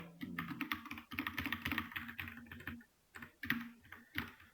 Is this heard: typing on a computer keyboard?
yes